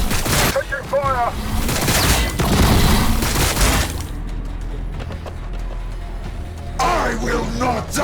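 Bursts of gunfire and booming blasts from a Warhammer 40,000 battle between Blood Angels and Tyranids, loud and dense for the first half, then thinner crackling shots with a voice shouting over the din near the end.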